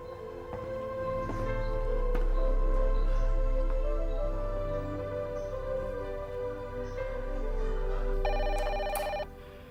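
An old-style telephone bell rings repeatedly in an Indonesian drama scene, the loud ringing running through the clip with a low background hum and no speech.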